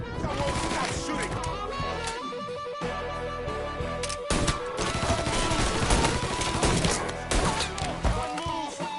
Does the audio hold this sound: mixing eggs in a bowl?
no